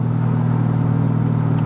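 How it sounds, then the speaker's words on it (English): A 2000 Ford Mustang Saleen exhaust drones under throttle at about 50 mph as a steady low hum heard from inside the cabin, with no voices. "Get in the gas, you hear it a little bit."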